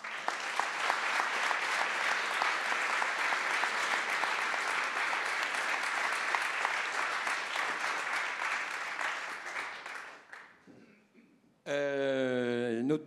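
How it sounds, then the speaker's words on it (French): Studio audience at a French talk show applauding a guest entrepreneur: dense, steady clapping from many hands lasts about ten seconds, tapers off, and gives way to a brief bright musical jingle. "Je vous demande d'applaudir Clémentine Piazza."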